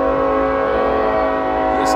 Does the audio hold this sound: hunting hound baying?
no